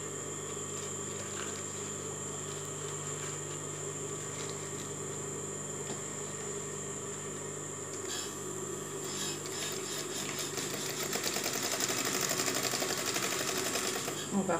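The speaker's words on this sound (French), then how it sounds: "Et on va commencer à le piquer à la machine." A sewing machine stitches a small jute bag with a steady, rapid mechanical whirr that speeds up and grows louder toward the end, heard close up.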